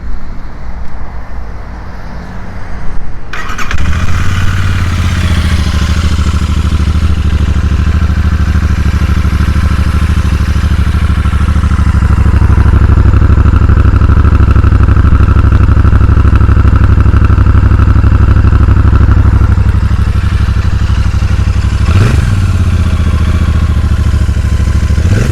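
A Royal Enfield Super Meteor 650 motorcycle engine idles close by with a steady, even low rumble after starting up, rising slightly midway and holding a civilized, moderately loud tone, with no talking.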